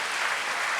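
Brief burst of audience clapping for postdocs and students at a public consciousness-science event, a dense even patter of many hands at steady loudness.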